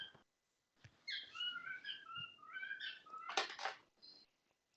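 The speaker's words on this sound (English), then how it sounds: "who has the really loud birds?" Faint birds chirping in the background, a run of bright, rising and falling whistled notes packed into a few seconds, with a sharper burst near the end and near silence around them.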